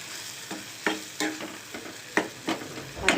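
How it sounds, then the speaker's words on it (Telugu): Tomatoes cook in a pan while being stirred, giving a steady soft sizzle with several louder scraping stirs spaced through a few seconds, close up and without talk. "టమాటా మగ్గుతూ ఉంది."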